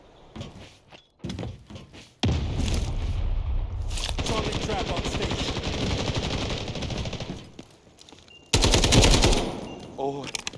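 Rapid automatic gunfire from the Delta Force video game, loud bursts that start and stop, with a long sustained stretch of rattling shots and a final heavy burst near the end.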